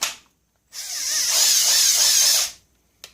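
Milwaukee cordless drill with freshly replaced brushes whirs up to a steady high-pitched run for about two seconds, close and loud, then winds down, with a brief blip of the motor near the end.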